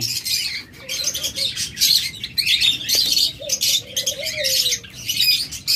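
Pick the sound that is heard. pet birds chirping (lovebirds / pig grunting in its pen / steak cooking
pet birds chirping (lovebirds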